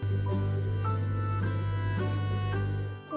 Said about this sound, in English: Yes, it's a refrigerator.